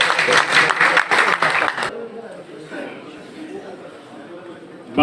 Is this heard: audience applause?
yes